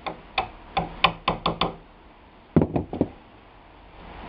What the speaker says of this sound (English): This chiseling takes a very, very long time to get it the way it's supposed to be.